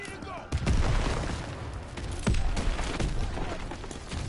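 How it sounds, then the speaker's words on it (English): Bazooka and heavy gunfire in Call of Duty: a sharp blast followed by sustained loud booming and rumbling explosions, with a second hit midway and battle noise throughout, under occasional talk. "Oh, bazooka."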